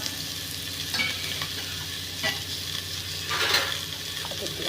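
Onions, mustard seeds and dried red chillies frying in oil for a Tamil manathakkali greens stir-fry, giving a steady close sizzle broken by a few scraping stirs, with no talking.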